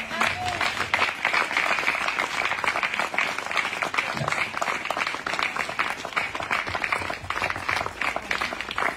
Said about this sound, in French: Allez, vous pouvez applaudir ce podium.